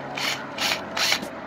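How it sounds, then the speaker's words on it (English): A drill bores out a metal piece of an AC unit, giving three short grinding bursts in quick succession, close and fairly loud. "So I'm gonna go ahead and I'm gonna drill it out."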